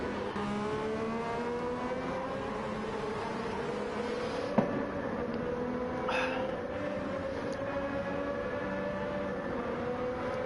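A racing car's engine drones steadily through a video game race, its tone sliding slowly upward as it accelerates, with a brief sharp click partway through and no talk.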